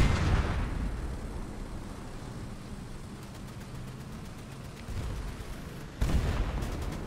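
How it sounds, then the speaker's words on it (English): Tank gunfire in War Thunder, a few heavy booms with low rumbling tails, the loudest at the start and another strong blast near the end, over steady battlefield noise. "Did you hear that fire? It was boom, boom, boom, all in succession."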